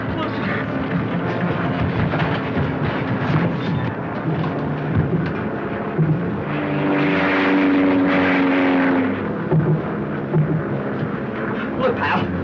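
A propeller airplane engine runs with a loud, continuous rumbling drone that swells toward the middle, and voices talk over it.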